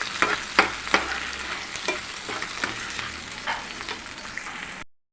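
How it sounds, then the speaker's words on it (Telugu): Cashew paste frying in a pan with curry leaves for chole masala curry, a close sizzle broken by repeated sharp spatula strokes against the pan, no talking, ending in abrupt silence. "జీడిపప్పు పేస్ట్ వేసుకొని వేయించుకోవాలి ఫైవ్ మినిట్స్ వేయితే పచ్చివాసన పోతుంది"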